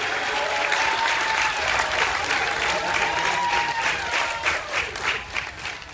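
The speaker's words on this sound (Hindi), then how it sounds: "तालियां रुकनी नहीं चाहिए।" Sustained applause from a school audience at an annual function in Akkalkuwa, a dense steady clapping that holds for the full six seconds and thins slightly toward the end, with a faint voice beneath.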